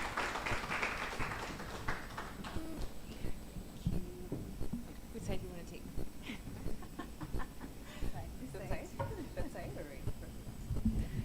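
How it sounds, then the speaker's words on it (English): Audience applause at the Jasiri Network Africa Summit 2025 in Nairobi as guests walk up onto the stage, scattered claps and taps running through the whole stretch over a low room hum, with a few voices mixed in. "Round of applause for them as they come up on stage."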